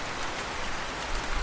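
Rain falls in a Hindi bird cartoon, a dense, even hiss of heavy downpour that is steady and close throughout.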